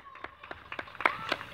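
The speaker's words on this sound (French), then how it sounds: "On applaudit, s'il vous plaît." Neighbours clap at 8 pm in Eschau, a few sparse, separate claps sounding from a distance over quiet surroundings.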